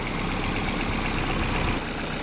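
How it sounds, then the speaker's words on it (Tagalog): A 2011 Ford Fiesta with manual transmission idles just after starting, following a no-crank fault, its engine a steady, loud, close rumble without talk. "umandar ng makina"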